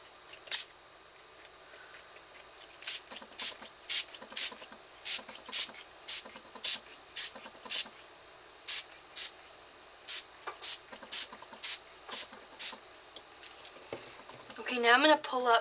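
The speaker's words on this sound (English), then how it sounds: "I have a few different sprays, and I'm just going to spray them randomly." A hand-pumped bottle of Dilutions ink spray in white linen mists an art journal page in a long run of short, crisp hissing bursts, close and fairly even in rhythm, ending with some rustling.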